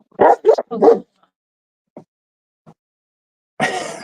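A pet dog barks three times in quick succession up close, then goes quiet apart from a couple of faint ticks before a burst of breathy, noisy sound.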